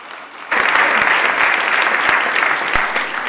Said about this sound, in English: yeah, clap for them because they are incredible